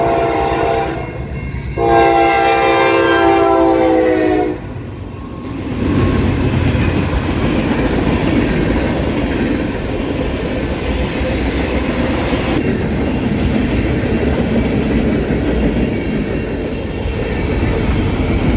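A freight train led by an AC44C6M locomotive rumbles past up close with a long horn blast near the start, followed by steady heavy wheel and rail noise that fills the rest.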